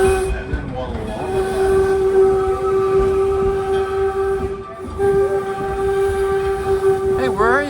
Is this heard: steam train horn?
yes